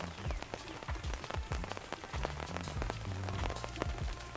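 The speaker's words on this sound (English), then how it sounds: "It's gonna stop raining in about 15 minutes." Steady rain falling outside, a dense patter of drops striking surfaces nearby with irregular sharper splats and drips, constant and fairly loud with no voices over it.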